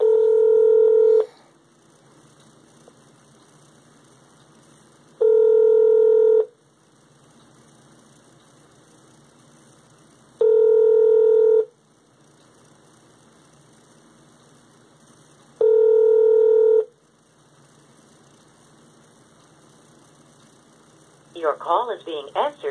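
Four loud, clean telephone keypad tones sound at an even pace about five seconds apart, with near-silent line hiss between them, as an automated phone menu is dialed; a short burst of other sound comes at the end.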